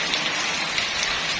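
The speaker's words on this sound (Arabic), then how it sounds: "شتا والبرد" Steady rain in cold winter weather in the mountains, falling and pattering on surfaces nearby in a dense, even patter for a brief stretch, with no voices.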